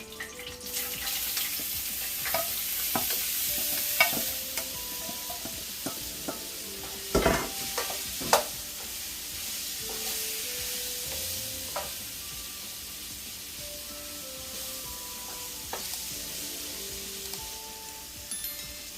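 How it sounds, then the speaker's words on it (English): Tofu frying in vegetable oil in a hot pot, a continuous soft sizzle with occasional clicks and sharp utensil knocks partway through, fairly quiet and without speech. "Now I'm going to add my tofu in the oil."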